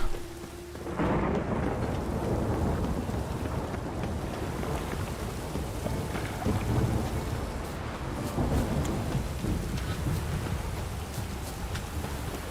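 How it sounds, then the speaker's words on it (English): In The Witcher 3, a thunderstorm brings a heavy, steady downpour of rain with rolling thunder rumbling under it, loud and continuous throughout with no voices. "What the hell was the weather here? It's almost always rainy, some black sky"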